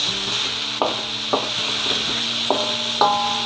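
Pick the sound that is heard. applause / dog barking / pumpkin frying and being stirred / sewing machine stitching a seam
pumpkin frying and being stirred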